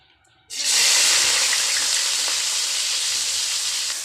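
Onions dropped into hot oil in a wok on a wood fire burst into a loud, steady sizzle after a brief quiet start, holding strong and close for several seconds.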